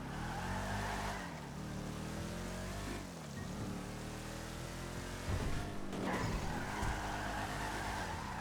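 The Rapid GT Classic, a car modeled on the 1968 Ford Mustang and Aston Martin V8, revs loudly in GTA 5 Online. Its engine pitch rises and falls through the clip while the tires squeal and skid, and nobody speaks.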